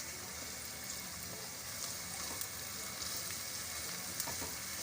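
Chopped onions sizzle in a pan while cooking for green pea chutney, a steady close frying hiss with occasional soft stirring scrapes.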